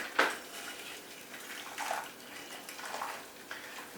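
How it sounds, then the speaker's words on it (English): Water running into a pasta pot from a tap, a soft splashing flow with a few louder sloshes and light clinks of the pot, fairly quiet and close. "fill it up with water"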